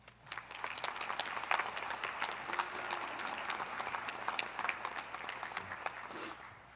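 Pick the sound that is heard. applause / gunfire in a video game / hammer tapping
applause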